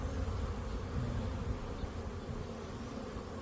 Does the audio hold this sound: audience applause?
no